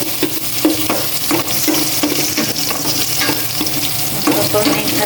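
Ginger and garlic sautéing in a saucepan, with a loud, steady sizzle close by and regular scraping strokes of a spatula stirring the pan.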